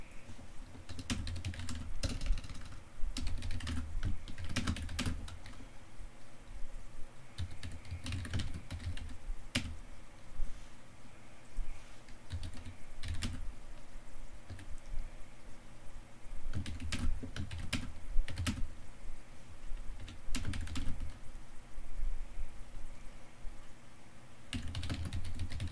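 Steady typing on a computer keyboard while a program is written, with continuous close key clicks broken by occasional louder bursts and brief pauses, no voices.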